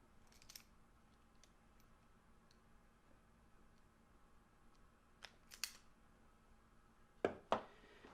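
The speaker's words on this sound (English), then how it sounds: "I'm going to cut the opposite end so I can get my lead on there." Cutters snip the end of a wire test lead: a quiet stretch with faint ticks, then a couple of sharp, close clicks and two crisp snips near the end.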